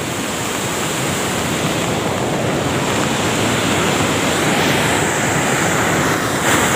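Loud, steady rushing water roars continuously without a break at the full Labed dam, like a heavy flow pouring over a spillway.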